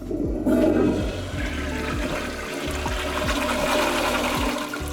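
Toilet flushing aboard a speed ferry between Saigon and Vung Tau: a loud close rushing whoosh of water with repeated low pulsing thumps from the pump, continuing steadily for several seconds with no voices.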